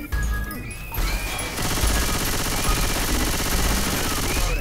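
Rapid gunfire from the Left 4 Dead 2 video game, a dense, loud barrage of shots with crashes and impacts running continuously throughout.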